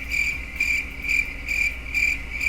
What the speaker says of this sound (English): Exactly. Crickets.